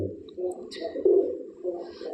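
Punjabi Malwai pigeons coo in soft, low throaty bursts, close by, with a few faint chirps and rustles in between.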